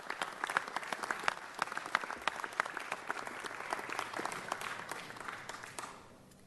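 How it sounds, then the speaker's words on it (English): A Los Angeles city council chamber audience gives a round of applause for Frank Lima after a commendation, brisk, crisp clapping that carries on steadily before fading away at the end. "Everybody give him a big round of applause."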